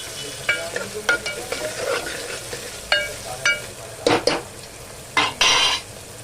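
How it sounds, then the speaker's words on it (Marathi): Garlic, onion and curry leaves fry in a pan for masala dal, with a soft sizzle under repeated scraping stirs and clinks of a spoon against the pan, close up, without voices. "लसूण, कांदा, कढीपत्ता घालून घेतलाय। कांदा जरा लाल करून घ्यायचा आहे"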